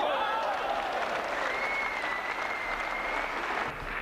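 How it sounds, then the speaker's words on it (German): Spectators at a table tennis match applauding, a dense steady wash of clapping from a large indoor crowd with no break, while a commentator talks over it. "Die Zuschauer aus dem Häuschen."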